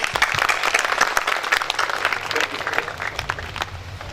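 Audience applause at a polio awareness seminar, a dense, steady patter of many hands clapping that holds at an even level throughout, with faint voices mixed in.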